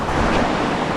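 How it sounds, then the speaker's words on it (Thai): Strong wind roaring steadily through a forest in Laos or Thailand, a dense broadband rush with no lulls, close and loud, with no voices. "โอ้ลมคักอะไรพี่น้องเอ้ย"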